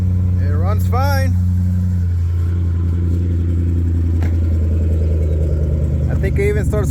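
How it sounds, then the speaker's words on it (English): A Jaguar XF race car running on a new lightweight lithium battery settles into a steady, low engine rumble, with a voice talking over it at the start and end. "I think it even starts quicker than with the old battery. The starter spins a lot faster."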